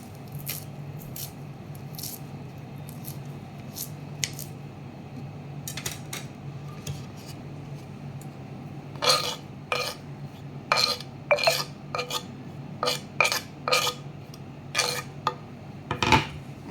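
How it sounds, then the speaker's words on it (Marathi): A knife finely chops fresh coriander for a radish salad. A few scattered taps come first, then a quicker run of sharp, close chopping strikes in the second half, with no talking. "कोथिंबीर थोडीशी चिरते ही जी घेतली होती बारीक"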